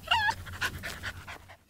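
A puppy's short, close whimpers and sniffs, with a few high nasal whines followed by soft panting-like breaths that fade out.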